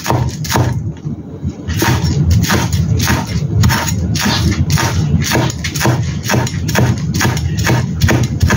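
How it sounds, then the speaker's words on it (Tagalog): A knife chops green onions on a cutting board in rapid, even strokes, a steady run of close, crisp thuds continuing throughout without talk. "I-chop lang natin yung ating green onions"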